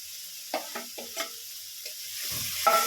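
Mustard paste spice mixture stirred into hot oil for a fish curry, giving a steady low sizzle broken by several scraping spoon strokes, close and moderately loud, with no talk.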